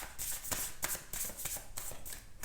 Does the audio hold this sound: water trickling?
no